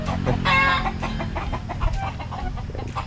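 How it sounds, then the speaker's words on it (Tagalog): Pet chickens cluck close by in an outdoor yard, with a run of rapid clucks and squawks followed by scattered softer calls, fairly loud and without speech. "alaga siyang mga manok."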